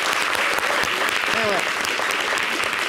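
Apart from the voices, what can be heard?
studio applause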